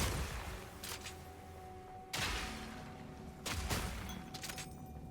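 Fire and oil puddle bombs burst in Path of Exile 2, three loud broadband blasts spaced about a second and a half apart over a steady hum of game ambience, with no talking.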